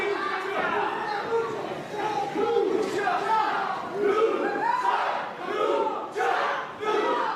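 A wrestling crowd at an AXW show chants a rhythmic lucha cheer led by a wrestler, many voices rising and falling in repeated bursts that fill the arena, with chatter mixed in.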